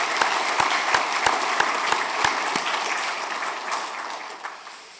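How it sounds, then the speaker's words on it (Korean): A congregation at a Sunday church service applauds, with a few sharp claps at the start settling into steady clapping that tapers off. "큰 박수로 우리 축복하겠습니다"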